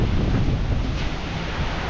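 Strong typhoon wind blows through a garden, a loud, continuous roaring rush that buffets the microphone heavily and steadily for the full two seconds.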